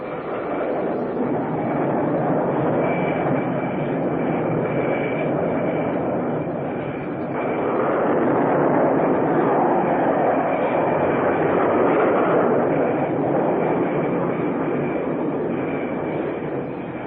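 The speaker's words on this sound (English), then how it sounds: "The launch sequence continues with up to 4 aircraft dispatched almost simultaneously." Steady, loud jet roar from F-4 Phantom II fighters launched by catapult off an aircraft carrier deck, several aircraft in quick succession, a continuous broadband rumble that swells slightly midway with no talk.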